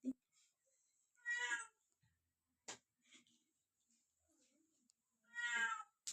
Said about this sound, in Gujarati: મીંદડી બેન આવે છે, રાડું નાખે છે.